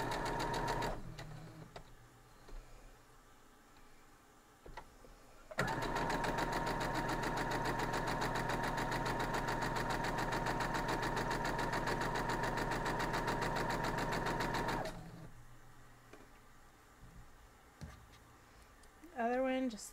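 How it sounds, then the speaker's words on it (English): Sewing machine stitching down a fabric quilt block, a steady, loud, rapid mechanical whir running for about nine seconds without a break, preceded and followed by quieter handling noises and brief starts. "We're just going to go and sew it down."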